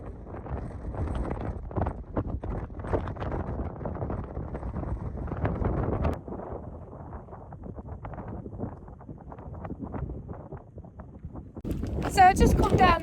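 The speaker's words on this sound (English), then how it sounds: "it was very windy up there, so I couldn't really talk" Strong wind on an open Lake District fell top buffets the microphone in a continuous low rumble with gusty surges, loudest near the end.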